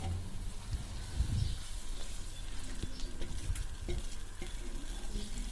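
Cow's-milk butter melting over high heat in a pan, giving a close, continuous bubbling sizzle broken by scraping and stirring sounds, with a few dull knocks of the utensil against the pan.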